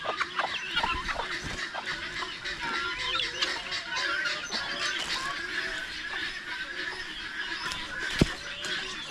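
Turkeys and turkey chicks on a Filipino farm, soft clucking and chirping calls scattered over a low background, with one sharper, louder call near the end.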